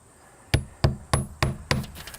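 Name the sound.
hammer striking nails into siding trim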